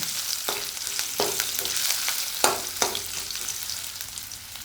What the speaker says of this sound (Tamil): இஞ்சியை சேர்த்து நல்லா வந்து எண்ணெயில் வதக்கி விட்றாங்க நல்லா வதங்கட்டேன்